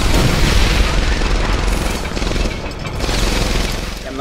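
Enemy gunfire in the World War II shooter Medal of Honor, loud continuous automatic bursts with heavy booming, close and dense throughout.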